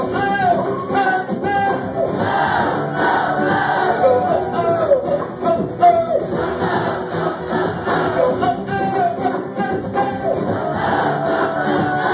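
A concert crowd at a show sings along in a loud, continuous mass of voices chanting repeated oh-oh-oh syllables, with a dense, steady roar of cheering and music throughout.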